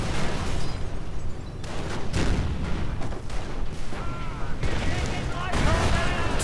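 Heavy gunfire rattles in a World War II strategy game as a Tiger tank comes under fire: dense overlapping shots and booms in a continuous loud barrage.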